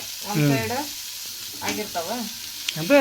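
Bangda mackerel fries in a pan with a soft, steady sizzle running beneath a voice talking over most of the moment.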